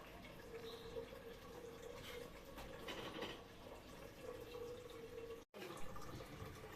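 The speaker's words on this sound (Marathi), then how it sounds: "मी भरते इथे पाणी आणि पाणी खूप स्लो आलं आहे" Water runs slowly from a household tap into a container in a faint, steady trickle with a thin sustained tone, cutting out briefly near the end before resuming.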